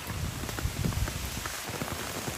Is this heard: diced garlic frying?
no